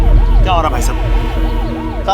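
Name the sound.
ambulance siren in traffic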